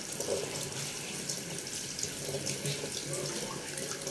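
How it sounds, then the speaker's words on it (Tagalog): Insulin plant leaves being washed under a running kitchen tap, a steady hiss of water splashing with faint shifting tones as the leaves are handled, fairly quiet and close. "Hugasan po natin mabuti."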